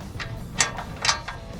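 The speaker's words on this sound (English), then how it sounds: "Just tighten those 2 bolts." A ratchet tightens bolts on an over-rider bumper hoop being fitted to a 2019-2022 RAM 1500, giving a few short, crisp clicks spaced apart, close and moderately quiet with no talk.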